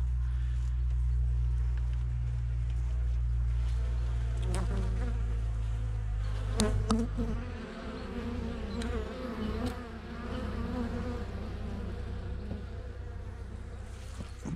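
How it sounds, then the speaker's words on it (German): Honeybees buzz steadily close by during a late-November hive inspection, a loud continuous drone that thins after a few seconds into a busier, fluttering hum with scattered wing bursts. "weil mich gerade eine Biene hier in die Lippe gestochen hat"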